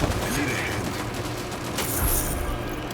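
Rapid pistol gunfire in the shooter video game Rogue Company, in steady bursts over a dense game-noise bed, with one sharper crack near the end.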